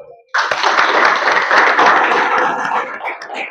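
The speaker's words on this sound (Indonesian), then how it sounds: "Beri aplaus dulu." An audience breaks into sustained applause after a short quiet start, many hands clapping loudly and densely for about three seconds before tapering slightly toward the end.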